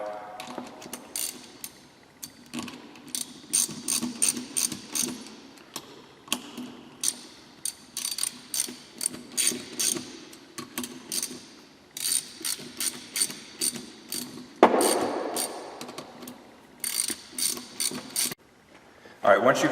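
A 13mm wrench ratchets down the clamp bolts on a Barton Challenger pistol grip. Repeated bursts of quick close clicking are separated by brief pauses, and a few louder clunks come from the tool being repositioned.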